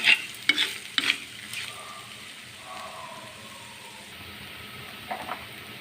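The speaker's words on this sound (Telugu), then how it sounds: "పచ్చి కొబ్బరి ఉంది కదా అది వేసేసుకుందాం వేసుకుని ఒకసారి ఫ్రై చేసుకుందాం" Ivy gourd frying in a pan with fresh grated coconut: a few sharp clinks and scrapes at the start, then a soft, low sizzle that continues quietly, with another brief pair of taps near the end.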